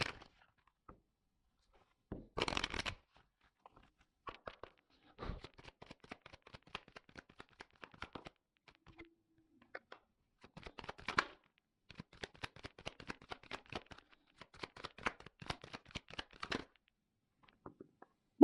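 Tarot cards are drawn and handled in a quiet room, giving sparse soft slides, snaps and flicks in scattered bursts with gaps of near silence, faint and close, with no talk heard.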